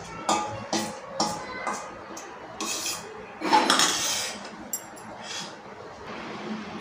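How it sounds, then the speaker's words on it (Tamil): Coconut kozhukattai filling is scraped into a nonstick pan with a metal utensil, giving a series of clinks and rasping scrapes against the pan's surface, irregular and close, with a few louder knocks. "இப்போ இந்த நான்ஸ்டிக் பேனில் சேர்த்துருவோம்."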